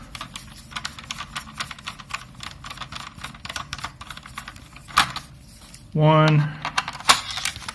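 A screwdriver undoes two screws on a mini PC, giving small, close clicks and scrapes with a few sharper taps and a faint clatter, while someone speaks briefly in the middle.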